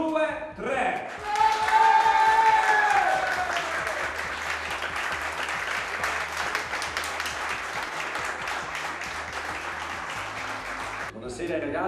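After a brief spoken cue, an Italian talent-show audience breaks into loud applause for a band, swelling quickly then holding a dense, steady clapping for several seconds before it tapers and a voice returns.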